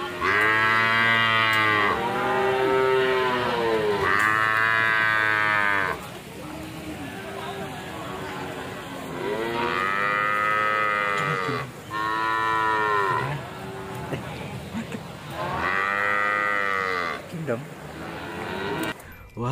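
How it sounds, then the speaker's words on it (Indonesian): A buffalo in Jurassic World Evolution 2 moos in long, loud, drawn-out calls, four or five bellows separated by short pauses, with occasional quieter sounds in the gaps. "Wow, ternyata hewan kerbau."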